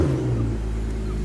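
Porsche Panamera engine idling steadily just after start-up, a loud continuous low rumble with a faint whir, no speech over it.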